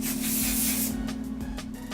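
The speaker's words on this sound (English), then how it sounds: "the last thing I'm going to do is set it with the hairspray" Hairspray hissing from an aerosol can in a close, steady burst of about a second that then tapers into softer, uneven puffs.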